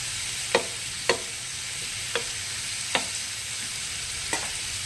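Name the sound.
stirring tomatoes frying in a pan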